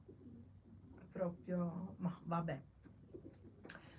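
A pigeon coos as it comes indoors, its low, rounded calls rising and falling in a few short phrases, while a person speaks briefly nearby in a quiet room.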